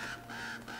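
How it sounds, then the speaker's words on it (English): Crows caw in a game jungle setting, two or three short harsh calls in quick succession at moderate distance, with a low ambient hum beneath. "There's a bird. There's two birds."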